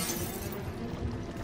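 Glass shatters in the Resident Evil Revelations 2 video game on Xbox One, a dense, steady crunch of breaking panes that lasts about a second and a half at moderate loudness, with no voices.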